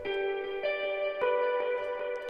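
A held, tonal music sample shifting through several notes, with each attack smeared by echoing repeats that trail into the next.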